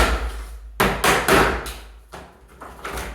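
A knife and hammer pry the glazing bead off a window frame to remove a double-glazed unit, with a series of sharp close knocks and taps, loud and uneven, and no one talking.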